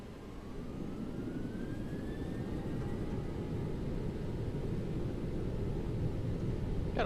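A jet airliner's steady engine roar during its takeoff roll on a runway in the X-Plane 11 flight simulator, a constant, fairly quiet rumble holding level throughout with no voices.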